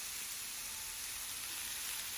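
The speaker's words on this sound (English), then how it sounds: "Enjoy the sizzle." Steady, even sizzling hiss of chicken tikka on a hot greased grill pan, continuous and fairly loud throughout with no talking.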